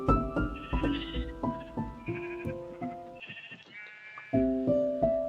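A black sheep bleats in a farming survival video game, its wavering game-style bleats repeating steadily and loudly over a tonal melodic background.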